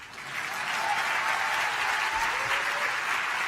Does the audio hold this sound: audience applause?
yes